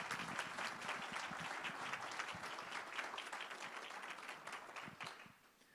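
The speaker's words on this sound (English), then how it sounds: "we'll give you a round of applause as the new inductee into the Hall of Fame" Steady round of applause from a seated audience at a Hall of Fame induction ceremony in Watertown, dense clapping throughout that tapers off near the end.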